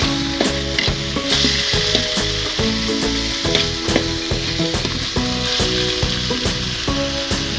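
Tempeh stir-frying with spices in a pan, a loud continuous sizzle close up with repeated scraping and clanking of a utensil stirring at a steady rhythm.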